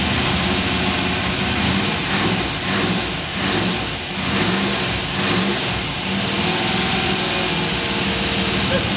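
A rebuilt Triumph TR8 V8 engine runs loud and close, a steady dense roar with rhythmic pulsing and slight swells as it settles, filling the whole clip.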